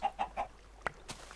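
Chicken clucking nearby in three quick rhythmic clucks, followed by a couple of sharp clicks, faint in the background, no talk.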